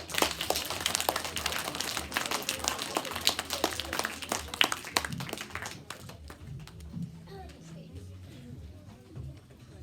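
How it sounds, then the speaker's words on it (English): Schoolchildren and teachers applaud at a school assembly before a class performance of Jingle Bells, dense clapping for about six seconds that then thins into scattered claps and background chatter. "Please welcome them with a huge round of applause"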